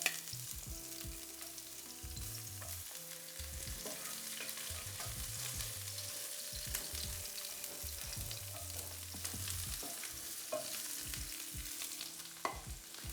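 Chopped onions fry and sizzle in a pan for vegan Salisbury steak, a steady hiss with occasional stirring scrapes and clinks from a utensil, continuous and fairly quiet, with no talking.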